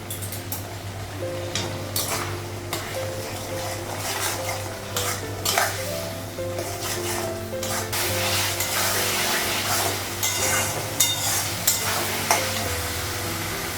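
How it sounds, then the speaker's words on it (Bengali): Spices fry in a pan with a steady, loud sizzle beneath frequent metallic clinks and scrapes of a stirring utensil against the pan, close up, with a low hum throughout. "মশলাগুলো ভেজে নেবো"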